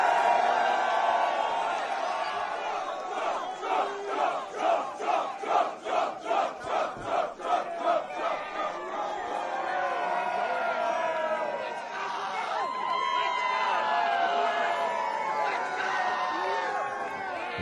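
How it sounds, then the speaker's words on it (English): A large crowd of young people at a college campus political event cheers and chants in rhythmic bursts, then swells into loud, sustained whooping and shouting that fills the space. "when you watch these videos of these young people cheering at the college campuses"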